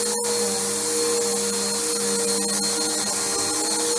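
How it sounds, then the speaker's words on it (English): A Bissell Powerforce bagged vacuum cleaner runs steadily, giving a loud, constant whirring drone with a sharp click near the start and no talk over it. "this is not a super loud vacuum"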